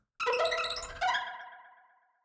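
Two bright synthesized plucked notes ring out one after the other, each decaying quickly into silence.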